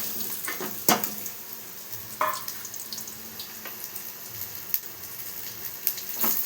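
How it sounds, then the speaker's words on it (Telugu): Peeled, cut bottle gourd pieces frying in hot oil in a pan: a soft continuous sizzle, broken by occasional clinks and scrapes of stirring, close up with no talking. "ఆయిల్ కొంచెం హీట్ అయిన తర్వాత మనము పీల్ తీసి కట్ చేసుకున్నటువంటి సొరకాయ ముక్కల్ని వేసేసుకోవాలి"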